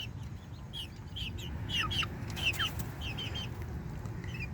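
An urban backyard hen clucks in a short run of soft, repeated calls, fairly faint against a low outdoor rumble.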